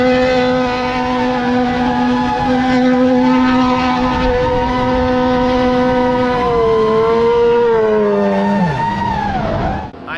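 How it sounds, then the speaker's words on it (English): A 1983 Subaru wagon doing donuts on a Sonoma racetrack, its engine held at loud, steady high revs with a close buzzing drone that wavers and dips near the end as it swings around, with no talking. "I am driving a 1983 Subaru wagon"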